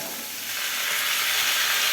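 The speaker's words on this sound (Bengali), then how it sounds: "এরপর আমি এখানে কুমড়োগুলি এবার দিয়ে দেব।" Pumpkin pieces dropped into hot oil with cumin seeds over a medium gas flame, giving a steady, bright sizzle that swells and holds loud and close with no talking.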